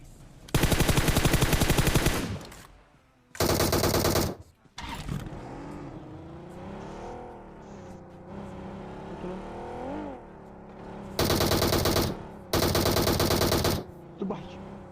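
Long, loud bursts of rapid Uzi submachine gun fire in a video game alternate with someone talking over motorbike engine noise, the firing returning in two more sustained volleys.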